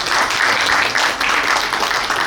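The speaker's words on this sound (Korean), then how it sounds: "여러분 박수 한번 쳐주세요." A crowd applauds with dense, continuous clapping at close range, sustained and even throughout.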